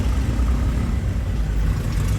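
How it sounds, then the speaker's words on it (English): Road traffic heard from inside a moving car on Nosy Be island, Madagascar: a steady, close engine and road rumble that stays low and constant with no break. "Now we hit the traffic."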